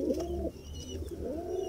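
Pigeons cooing nearby, two soft rolling low coos about a second apart, heard alone against faint background noise.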